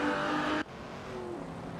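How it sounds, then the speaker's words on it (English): Race cars in an AI racing simulator video game roar past on a track, a loud steady engine drone cutting off abruptly, then a quieter engine tone rising and falling as another car passes. "those cars are flying around that track like crazy"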